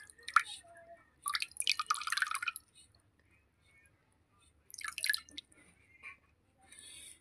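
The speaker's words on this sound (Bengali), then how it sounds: "তো এখানে হচ্ছে মধু দিয়ে স্নানটা করিয়ে দেবো" Honey dripping and squishing during the bathing of deity idols at a home shrine, with soft wet drips and sticky smacks coming in two bursts and then faint scattered drops, close and quiet.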